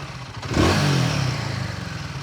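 A motorcycle engine on its center stand, idling near 1,300 RPM after a rough-running problem, is revved once in a quick rising surge that hangs briefly before settling back to a steady, close-up idle.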